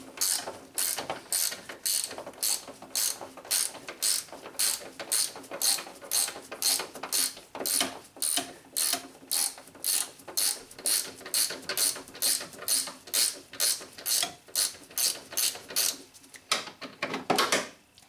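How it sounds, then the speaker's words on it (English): A ratcheting wrench turns a bolt on a 2007 Nissan Altima engine mount, giving a long, steady series of sharp metallic clicks in regular quick strokes, close and loud, with a faster flurry at the end and no talking. "Helps to have a ratcheting wrench like this."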